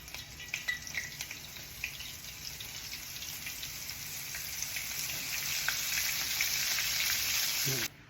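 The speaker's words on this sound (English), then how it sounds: "we're gonna put it in this bag of seasoning and we're gonna shake it around in there and we're gonna fry them up" Seasoned banana flowers fry in hot oil with a steady, close crackling sizzle that builds gradually and then cuts off abruptly near the end.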